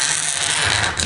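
A close, scratchy rasping as a blade drags along a hard plastic surface, one continuous gritty scrape lasting about a second.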